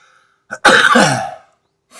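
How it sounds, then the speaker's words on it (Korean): A single sharp cough followed by a longer, harsh throat-clearing burst, close and loud, then quiet. "아이고 기침이 나왔어요."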